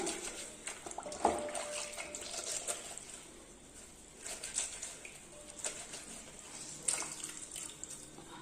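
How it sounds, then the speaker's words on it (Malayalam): A tea-stained cloth rubbed by hand in potato water, heard close as soft wet sloshing and squelching with faint splashes, steady and fairly quiet with no voices. "ഇനി നമുക്കിത് രണ്ട് കൈ കൊണ്ട് നന്നായിട്ടൊന്ന് ഇതുപോലെ തിരുമ്മി കൊടുക്കാം"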